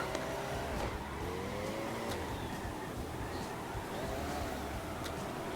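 Car drifting through a forest in the CarX Drift Racing mobile game, its engine droning continuously with rising and falling revs and tire squeal, at a moderate steady level with no talking.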